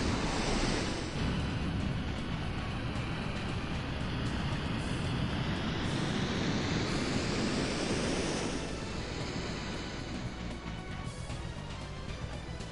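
A water attack effect from The Legend of Dragoon plays as a loud, steady rushing wash of water, like surging surf, sustained throughout with a slight easing near the end.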